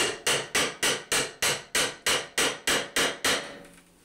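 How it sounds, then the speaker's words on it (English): Eleven sharp, evenly spaced hammer blows ring out close by as a bathtub shower wall panel is worked loose for prying, each strike a bright crack that decays quickly before the next. "Now let's see if If we can carefully pry this, we might not have to cut it."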